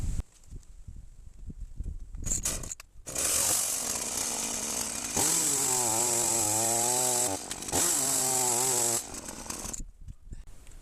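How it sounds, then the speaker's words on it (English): A chainsaw with a very blunt chain revs and bites into a log outdoors, loud and close, with two sustained cutting bursts separated by brief drops in engine pitch. "I've got a working chainsaw"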